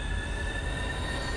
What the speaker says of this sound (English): zombie Nazis driving trains